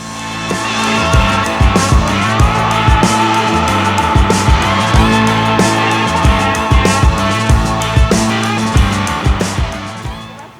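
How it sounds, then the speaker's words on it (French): A car on the road nearby, its engine loud and rising and falling in repeated surges that carry on for several seconds. "Le bruit qu'on entend, c'est quoi? Une voiture?"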